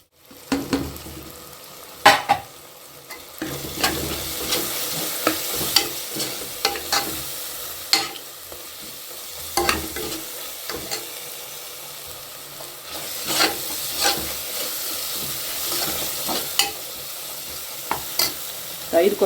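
Tomatoes fry and sizzle in a pan with biryani powder, chili powder and turmeric for an eggplant biryani, while a spoon stirs and scrapes in irregular bursts and occasionally knocks the pan, close and continuous without talk.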